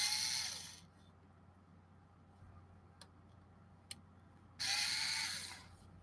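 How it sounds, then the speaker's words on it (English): Screws being removed from a 30 or 40 amp power supply, with two faint bursts of screwdriver or drill whir at the start and end, quiet ticks between, and no talk. "Take the screws out."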